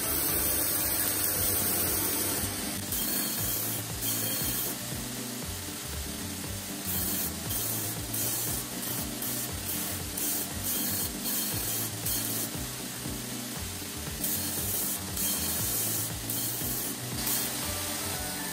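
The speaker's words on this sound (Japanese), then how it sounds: "60番のベルトで裏面を作っていきます。" Belt grinder running a 60-grit belt against the back face of a Damascus steel Japanese kitchen knife, a loud continuous abrasive hiss with a steady motor drone, with brief shifts as the blade is worked.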